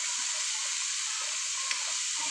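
Ginger paste frying in a pan for bitter gourd curry, a dense steady hiss and sizzle with a faint clink, close and continuous.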